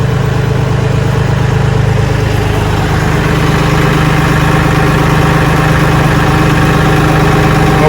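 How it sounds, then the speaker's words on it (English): A tractor fitted with a post hole digger auger runs steadily as it rolls forward, its engine giving a loud, close, continuous low rumble and vibration with no change in pace and no voices. "So I'm going to roll the tractor forward again."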